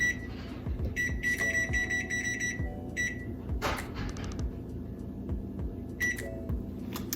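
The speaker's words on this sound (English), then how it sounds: "first what you wanna do is turn the oven to 425" Electronic beeps from a home oven's control panel as the temperature is keyed in to 425 degrees, several short tones in quick clusters over a steady kitchen hum, close and clear with no talking.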